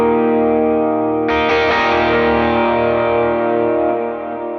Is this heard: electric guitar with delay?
yes